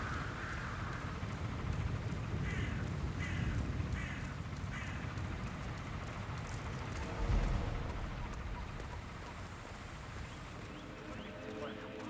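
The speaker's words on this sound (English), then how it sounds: "I'll never get rid of those stupid birds." Crows cawing in the video game Hitman 3, a run of repeated harsh caws over a dense, noisy ambient background, with other game sounds and no clear speech.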